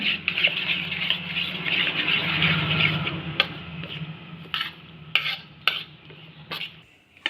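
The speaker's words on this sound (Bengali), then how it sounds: "এটা ভালো করে ফাটিয়ে নেব" Eggs beaten with salt and turmeric in a bowl make a rapid, close clattering of utensil against dish for a few seconds, followed by several sharp separate taps as the beating stops.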